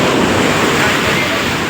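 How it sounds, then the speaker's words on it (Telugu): Sea waves wash loudly up a beach in a dense, continuous rush, mixed with wind buffeting the microphone. "అయినా వాటర్ పైకి వచ్చేస్తుంది భవిష్య."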